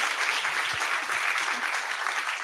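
Sustained applause from an audience at an Unreal game jam event, dense steady clapping filling the whole stretch with no break, fairly loud and even throughout.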